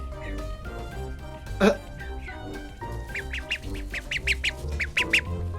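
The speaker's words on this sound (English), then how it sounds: "here's the ducks once I put them in. Enclosure." Small ducklings quack and peep in quick bursts close by in an enclosure, with a person talking over the bird calls.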